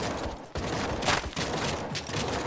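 Continuous gunfire from several weapons in the survival video game The Front, a dense steady barrage with brief louder bursts, close and loud throughout with no talking.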